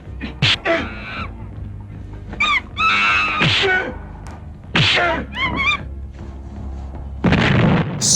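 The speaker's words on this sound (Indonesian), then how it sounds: "Sebuah ledakan besar menghantam dinding goa." Large dynamite blast striking a cave wall, heard as several booming bursts and sharp cracks scattered across the clip, loud and close, with a final heavy burst near the end.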